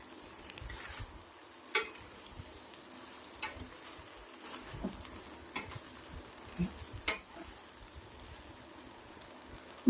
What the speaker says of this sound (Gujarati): ચમચાથી હલાવી લેશું.